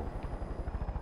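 A helicopter in the video game Far Cry 5 flies nearby, its rotor beating in a steady, fast thumping rhythm over a constant engine whine.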